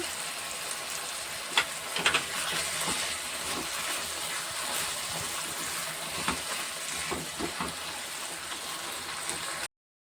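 Fried prawns go into a cooking pan, where a dense, steady hiss of sizzling runs throughout, with a few louder clatters near the start and no talk.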